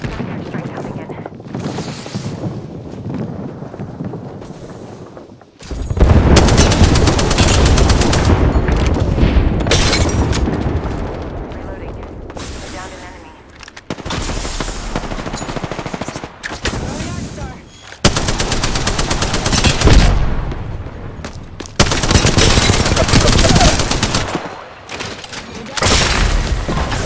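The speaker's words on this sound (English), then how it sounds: "Heads up. Air strike coming in." Explosions from an air strike and bursts of rapid gunfire in the battle game Apex Legends, loud and close, coming in dense rolling waves with short quieter gaps, while voices talk at points.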